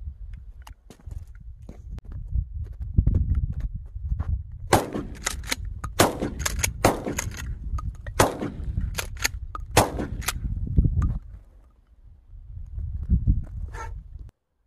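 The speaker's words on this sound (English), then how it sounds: "we'll shoot the Mossberg 590 shockwave" A Mossberg 590 Shockwave shotgun fires outdoors on desert BLM land near Fruita, Colorado: a series of loud, sharp blasts at uneven intervals, some close together, with low rumbling between them.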